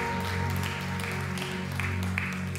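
A church congregation applauds steadily during a sermon, with a dense wash of clapping over a low hum of music or room noise and no clear speech.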